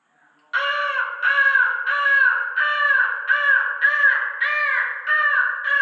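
A mimicry artist imitates a crow in a tree, giving about nine harsh, loud caws in a steady repeating rhythm, close to the listener.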